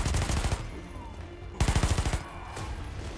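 Rapid automatic bursts from a Taurus CT9 G2 submachine gun in the shooter game Warface, two tight strings of shots separated by a pause, loud and close, with no voices over them.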